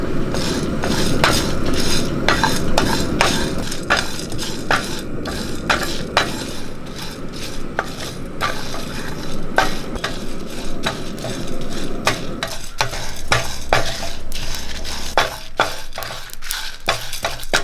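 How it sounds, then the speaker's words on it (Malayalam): Coriander seeds, black pepper and dried red chillies being dry-roasted in a pan, with steady clinks and scrapes from stirring the whole spices against the metal, close and continuous throughout. "ഒരു ടീസ്പൂൺ മല്ലി അര ടീസ്പൂൺ കുരുമുളക് അഞ്ചാറ് വറ്റൽമുളക് എടുത്തിട്ടുണ്ട് അതും ഇട്ട് കൊടുക്കാം ഇനി നമുക്കിതൊന്ന് വറുത്തെടുക്കാം"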